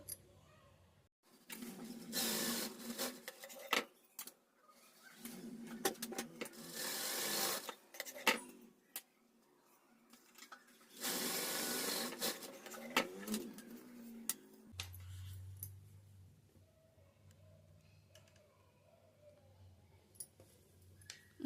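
A sewing machine stitches tucks on a work blouse in several loud bursts of rapid mechanical whirring separated by short pauses, followed by a quieter low steady hum near the end.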